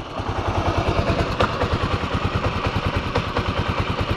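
Motorcycle engine idling close up as a new rider gets ready to pull away, a steady fast low throb with even pulsing and no voices.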